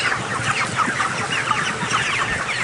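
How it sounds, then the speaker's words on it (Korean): A crowded flock of young chickens clucks continuously inside a cramped poultry farm shed in Anseong, Gyeonggi Province, a dense overlapping chorus of calls filling the space. "닭 사육장을 다시 찾았다"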